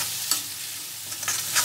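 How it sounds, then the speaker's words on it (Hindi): A ground onion-tomato masala is stirred and fried in a pan for masoor dal, giving a soft steady sizzle broken by a few short scraping strokes of the spoon, with no talking. "इसे इसी तरीके से चला के आप भून लेंगे ताकि मसाला आपका पक जाए।"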